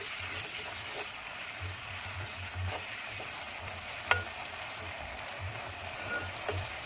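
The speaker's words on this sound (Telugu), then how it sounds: "ఇప్పుడు దాంట్లోకి మనం అల్లం వెల్లుల్లి పేస్ట్ వేసుకుందాం అది పచ్చివాసన పోయే వరకు ఫ్రై చేయాలి" Ginger garlic paste frying with onions in a pan for fish curry, with a faint, continuous soft sizzle and gentle stirring, one small tap midway, no talking.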